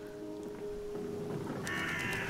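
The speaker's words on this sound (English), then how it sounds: "No, that's a crow, that's not a piggy." A crow caws once in the video game Amnesia: A Machine for Pigs, a short harsh call near the end over a steady low machinery drone.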